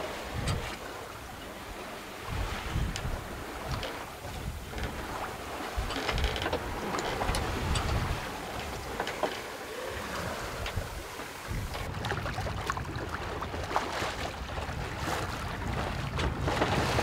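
Steady wind rushes over the microphone aboard a sailboat in about five to six knots of breeze off southern Sardinia, with water and hull noise mixed in, continuous and fairly loud throughout with no talk.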